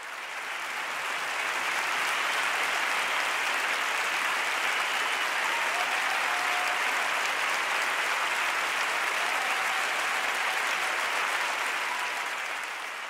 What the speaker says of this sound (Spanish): Enorme ovación, que es tan solo una muestra del cariño que se la tiene.